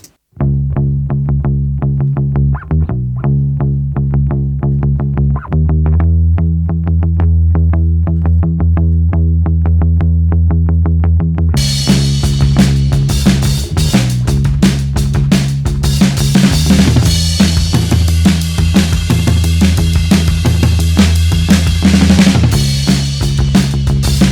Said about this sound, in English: There you go, bass and drums.